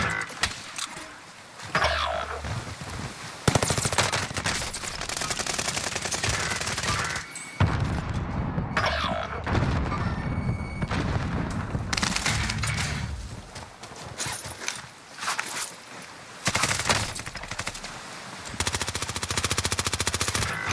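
Dense gunfire in the Warzone/Vanguard shooter, with sustained automatic bursts and rapid shots nearly filling the span, loud and close, broken by a few brief gaps and no talk.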